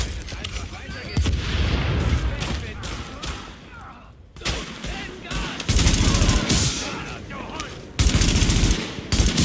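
Dense rapid gunfire and thumping grenade blasts from the video game The Division roll on in loud bursts, with players talking over the shooting throughout.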